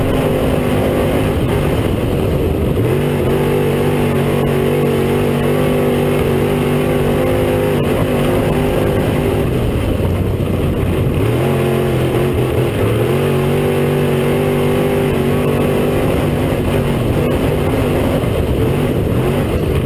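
Race cars circle a dirt oval at Cedar County Raceway during the first race of the year, engines droning loud and continuous with repeated rising and falling pitch sweeps as cars pass and work through the corners.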